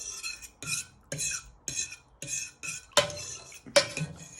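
A utensil scrapes and clinks around a pan while stirring a sauce to keep it from splitting as it thickens, with repeated short strokes about every half second and a couple of sharper knocks near the end.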